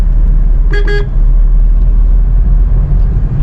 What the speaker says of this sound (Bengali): এই যে হর্ন দিলাম